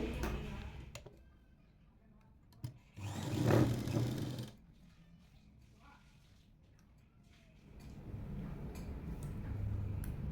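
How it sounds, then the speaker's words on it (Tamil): A tailor's sewing machine stitching the lining and main cloth of a kurti together, with a short burst of mechanical whirring, quiet handling noises and a later stretch of machine hum. "லைனிங்கையும் மெயின் கிளாத்தும் விலகாமல் இருக்கிறதுக்கு சுற்றி ஒரு தையல் போட்டுடலாம் ரெண்டையும் சேர்த்து"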